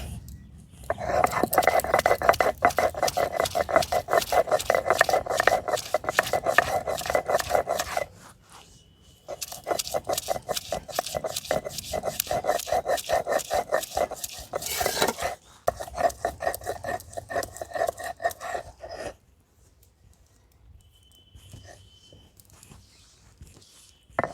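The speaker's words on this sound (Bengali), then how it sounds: "ধনে পাতাগুলোকে বেটে নিচ্ছি" Fresh coriander leaves ground into a paste: long runs of fast, rhythmic rasping strokes, pausing briefly midway and stopping before a quiet ending.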